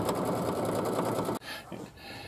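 An embroidery sewing machine stitches out a pattern with a dense, steady rapid whir for over a second, then stops abruptly, leaving quieter rustling and handling noise.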